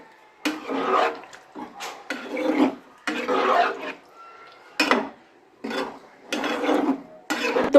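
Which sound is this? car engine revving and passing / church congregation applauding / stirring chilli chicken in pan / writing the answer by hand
stirring chilli chicken in pan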